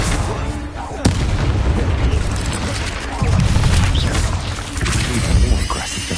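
A Bombarda blasting spell in Hogwarts Legacy sets off dense, heavy booming explosions that fill the stretch loudly, with a sharp crack near the start and rumbling impacts rolling on behind it.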